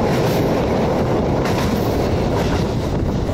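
A train rolls steadily along the shore of Lake Kanayama on the now-abandoned Nemuro Main Line section, a loud continuous rumble of wheels on rails with wind noise and no speech.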